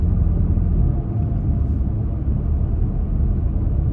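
Low, steady engine rumble from inside a Toyota Tacoma cruising around 41 mph as the gas is pressed, a continuous muffled drone with no talk.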